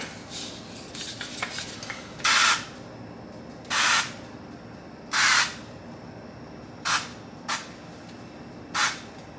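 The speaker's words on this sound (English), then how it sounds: "just use like a bit of a cooking spray" Several short hissing sprays of cooking spray from a can into a non-stick pan, evenly spaced with brief pauses, close by, after some faint clinks of cookware.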